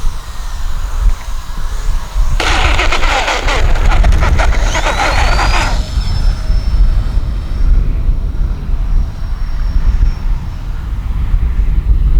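An E-flite EC-1500 twin-engine RC model plane flies overhead at night, its electric motors whining and shifting in pitch over heavy wind rumble against the microphone, with a louder buzzing pass partway through.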